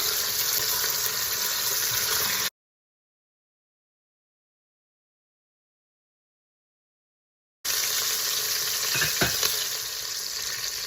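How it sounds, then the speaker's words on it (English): Korean short ribs searing in an Instant Pot, a steady broadband sizzle that cuts out completely mid-way and then resumes just as loud, with a few faint clinks near the end. "One side is seared now, and going down on the other."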